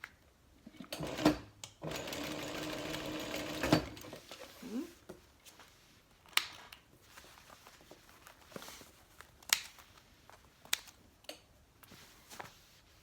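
A sewing machine stitches a tote bag, backstitching in one steady whirring run of about two seconds, followed by scattered light ticks and handling noises.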